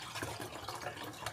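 Liquid pours into a container in a short, soft, steady trickle that burbles quietly, with no talking.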